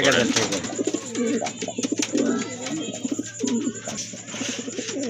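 Fancy pigeons for sale coo close by in a steady run of low, throaty, repeated calls, with a faint chirp above and a constant low hum underneath.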